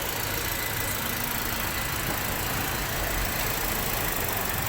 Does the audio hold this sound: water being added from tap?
no